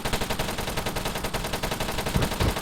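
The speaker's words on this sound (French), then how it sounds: "Rafale de douchka, mon pote." A DShK heavy machine gun in a video game fires a rapid sustained burst, dense evenly spaced shots hammering close and loud from start to finish, with a couple of heavier thumps near the end.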